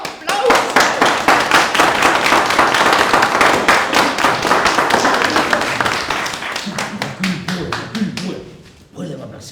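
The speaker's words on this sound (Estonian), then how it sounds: "Moemõisa härra Kurber, teeme temale südamliku ja tugeva aplausi." Audience applause for an honoured guest at an Estonian theatre performance, dense sustained clapping that fades out as voices start talking near the end.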